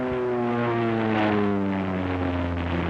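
OV-10 Bronco twin-propeller aircraft flying, a steady droning hum with strong tonal propeller harmonics, moderately loud and continuous, swelling slightly as it passes.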